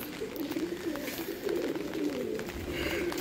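Pigeons coo softly on a rooftop during heavy rain, low repeated cooing calls set against a steady wash of rainfall.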